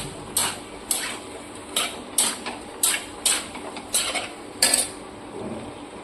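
A utensil strikes and scrapes a pan as pointed gourd, prawns and potato are stir-fried together, giving about nine fairly evenly spaced metallic clinks, close and fairly loud, with no voice.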